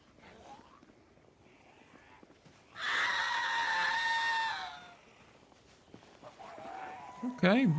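A screecher zombie in Project Zomboid lets out a loud, harsh, sustained scream lasting about two seconds, rising out of quiet game ambience, with someone talking faintly around it.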